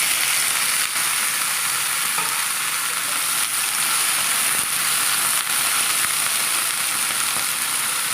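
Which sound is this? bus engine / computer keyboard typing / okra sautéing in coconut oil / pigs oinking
okra sautéing in coconut oil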